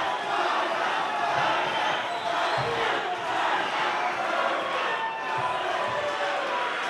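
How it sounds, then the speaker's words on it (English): A boxing crowd at an amateur Industry Rumble fight night roars and cheers continuously, a loud dense wash of voices and shouting with a few thumps from the ring beneath it. "And the crowd's going wild."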